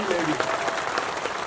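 A crowd applauds girls at a government girls' college event, with dense, steady clapping heard close and loud throughout, and voices mixing in beneath it.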